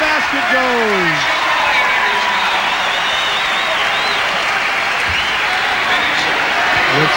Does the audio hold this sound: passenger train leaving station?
no